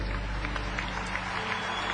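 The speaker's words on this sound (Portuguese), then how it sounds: "Aplausos para a sua condição de mulher" Applause fills a church celebration, a steady wash of clapping from a congregation that carries evenly from start to finish with no voices rising above it.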